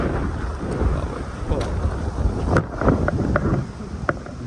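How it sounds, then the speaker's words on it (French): A strong gust of wind buffets an outdoor tennis court, a broadband roar that swells and surges across the whole span, with a few sharp knocks and ball hits breaking through the rushing noise. "Bonne rafale là."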